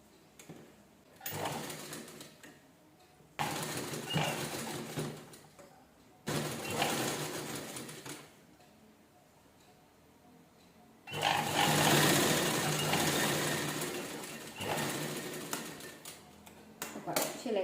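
Sewing machine stitching a small pocket zipper, running in several bursts of steady whirring separated by short pauses, with a longer continuous run near the end; close and fairly loud, no talk over it.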